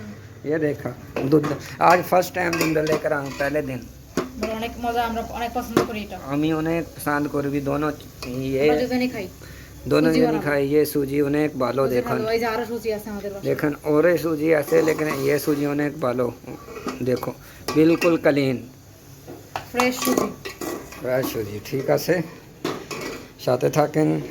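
Semolina for halwa being stirred in a pan after light frying in oil, with metal utensil clinks and scraping against the pan running under continuous speech throughout.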